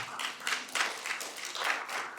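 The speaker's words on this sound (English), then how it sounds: "Let's give her a big round of applause" A small group claps for a couple of seconds, irregular hand claps fairly close and moderately loud.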